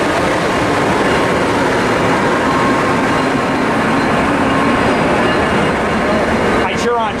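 ATSF locomotives pull a train slowly out of a San Diego yard, a steady loud low rumble of engines and rolling cars running throughout, with a brief higher squeal near the end.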